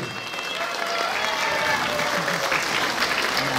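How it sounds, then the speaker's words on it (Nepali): Audience at a Kirat cultural program in Columbus, Ohio breaks into sustained applause, dense clapping that swells after the first second and holds steady, with a faint voice beneath. "जोरदार ताली उहाँहरूको निम्ति पनि"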